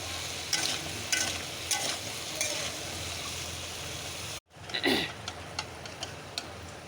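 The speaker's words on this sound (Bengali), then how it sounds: "বন্ধুরা দেখুন আমি পেঁপেটা এই তেলেতেই ভেজে নিচ্ছি" Papaya frying in oil in a wok, a steady close sizzle punctuated by spatula scrapes and clinks, briefly cutting out before resuming with more stirring.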